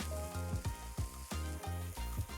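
Muntjac sausages sizzle and crackle in a hot pan, a loud continuous fry with recurring pulses and a few clinks nearby.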